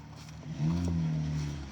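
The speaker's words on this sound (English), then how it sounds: "Ah, damn, that car is loud." A loud, low engine rumble swells as a car passes nearby, its deep droning tone holding strong for a second or so.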